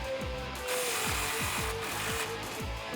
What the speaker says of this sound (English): now we can tighten down this clamp